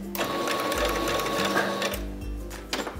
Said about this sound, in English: So I'm gonna do a couple stitches,